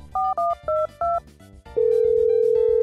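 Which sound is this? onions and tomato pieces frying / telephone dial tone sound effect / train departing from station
telephone dial tone sound effect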